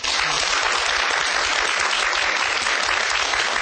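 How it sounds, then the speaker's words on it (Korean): Dense, steady applause from a lecture audience at a Korean televised public university talk on astronomy, continuous and loud throughout with no gaps. "박석재 원장님께 다시 한번 큰 박수 부탁드립니다"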